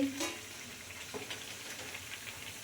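Food frying in a pan gives a steady, close sizzle of hissing oil, with a brief scrape near the start as it is lifted out.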